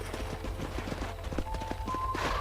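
Horse hooves from Red Dead Redemption, a brisk rhythmic clip-clop of a horse on the move over a steady low background, with a brief faint tonal whine near the end.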